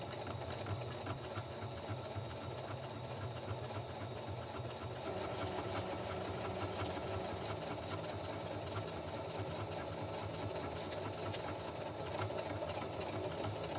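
A sewing machine stitches around the edges of a journal cover made from packaging, a continuous low mechanical whir with rapid needle rhythm, faint and steady throughout with no voices.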